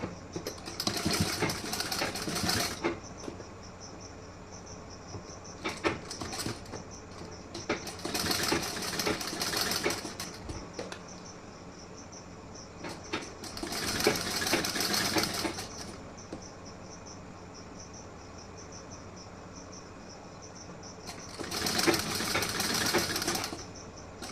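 Sewing machine stitching a blouse, four separate bursts of rapid rattling stitching lasting two to three seconds each, with quieter pauses and handling between them, close and clear.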